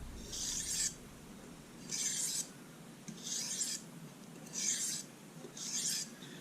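A kitchen knife is drawn across a sharpening stone in five slow, evenly spaced strokes, each a close, crisp scraping rasp lasting under a second, with quiet pauses between and no voice.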